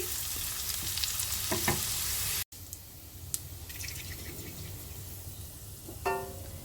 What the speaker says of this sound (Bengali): গোটা গরম মশলা সব আমি ফোড়ন দিয়ে দিয়েছি